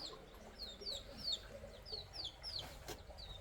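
Baby chicks cheep in a quick series of high, rising peeps over a faint background hiss, with no talking.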